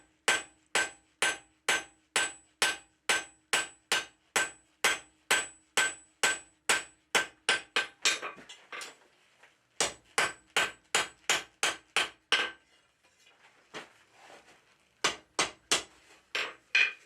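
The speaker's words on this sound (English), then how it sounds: "Here I'm working on a really rounded corner of my anvil with the cross peen" A cross peen hammer shapes a forged toasting fork on the rounded corner of an anvil, ringing out a long, steady run of sharp metallic strikes close by, then a brief pause and several more bursts of blows.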